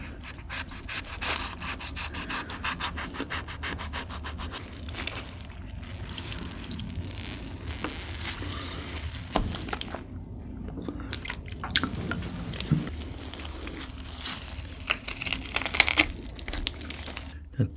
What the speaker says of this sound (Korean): 치킨은 일단 레몬즙을 좀 짜서 먹을게요.